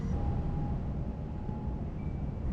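Local train pulling into Stone station, heard from on board as a steady broadband rumble and rolling noise with faint, thin whining tones above it.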